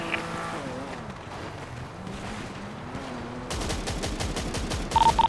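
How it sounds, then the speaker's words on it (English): Rapid automatic gunfire in a video game starts midway, a dense stream of loud cracking shots over a droning engine-like hum and background game noise. "He's shooting."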